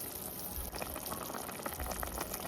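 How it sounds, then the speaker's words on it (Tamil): Water at a rolling boil in a pot on the stove, ready for rice to be added for green peas pulao, bubbling and hissing steadily and loudly at close range with no one talking. "தண்ணி நல்லா கொதிச்சிடுச்சு"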